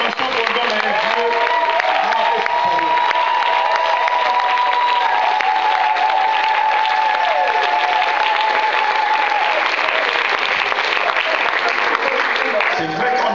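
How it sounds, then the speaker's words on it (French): A church congregation applauds and cheers loudly, a dense, continuous roar of clapping and shouting that rises under a sustained voice and holds for over ten seconds. "je crois que vous allez acclamer très fort"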